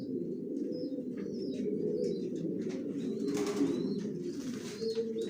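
Racing pigeons in a pigeon loft coo in a continuous low, close chorus, with a few faint higher chirps scattered above.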